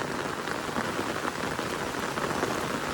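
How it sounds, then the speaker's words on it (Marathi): Heavy monsoon rain pours steadily on the surfaces around a rural field path, a dense, even hiss of drops with no pauses, loud and close, and no voices. "जाम मोठा पाऊस आलेला आहे"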